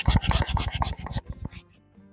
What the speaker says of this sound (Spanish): Con la lija de mano termino de eliminarlo.